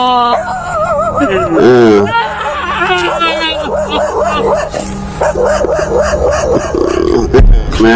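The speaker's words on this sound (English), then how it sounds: "then they got the dog barking" A dog barks and yips repeatedly close by in a tense indoor scene, mixed with overlapping distressed voices and babble throughout.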